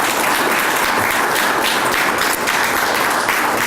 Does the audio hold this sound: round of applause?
yes